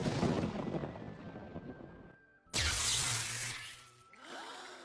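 Loud lightning strike and thunderclap sound effect in a dramatized story: a rumbling burst fades into near silence, then a sharp, sudden crack erupts and rolls on before tailing off.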